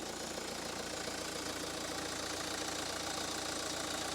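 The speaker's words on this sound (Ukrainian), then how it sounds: "Послухайте на свої вуха, як гарно і тихенько працює двигун" A 2015 Hyundai Santa Fe 2.2 CRDi 16V diesel engine, four-wheel drive with automatic gearbox, idles under the open hood with a steady, even hum and a faint rhythmic clatter, heard up close with no talking.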